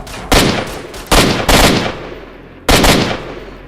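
Single shots from a firearm in the shooter game S.T.A.L.K.E.R., four sharp loud reports spaced irregularly, each with a short decaying tail.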